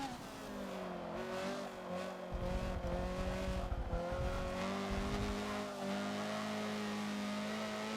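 A Honda CRX races at night on the Le Mans circuit in Forza, its engine note climbing and falling steadily as it brakes and downshifts, with tire noise under a loud, continuous drone.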